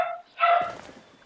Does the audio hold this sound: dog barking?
yes